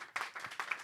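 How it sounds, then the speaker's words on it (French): Brief burst of applause at a church Sunday service, a crowd clapping steadily with overlapping hand claps, moderately near and fairly quiet. "Quand il y a un gros applaudissement pour Sœur Carlène"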